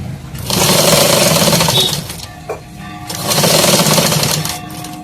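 A sewing machine stitches a katori blouse near the underarm in two loud, steady runs with a short pause between them, and no voices.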